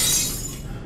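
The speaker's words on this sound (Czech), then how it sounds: "Tenhle ten zvuk rozbití znám." Glass shattering in a video game, a single bright crash with a short scattering tail of tinkling shards, loud and close, with no voices over it.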